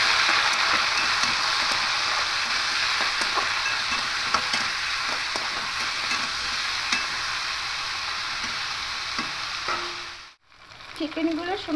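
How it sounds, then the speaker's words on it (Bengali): Chicken pieces frying in hot mustard oil in a kadai, a steady loud sizzle with scattered pops and stirring scrapes that runs without talk and breaks off briefly near the end. "এবার এখানে চিকেনগুলোকে দিয়ে হালকা করে একটু ভেজে নেব"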